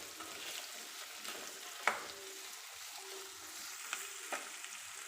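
Chopped onions and garlic cloves frying quietly in a pan, a faint steady sizzle with a few sharp spoon scrapes and knocks as they are stirred, close and without talk.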